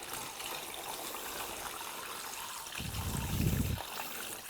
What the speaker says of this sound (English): I've got a bucket here that I've actually been using to soak some other stuff in, so I'm going to just let it pour right out of this